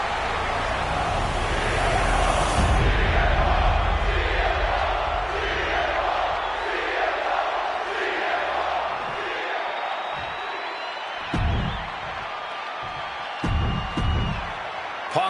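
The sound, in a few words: crowd roaring in a WWE 2K26 wrestling video game arena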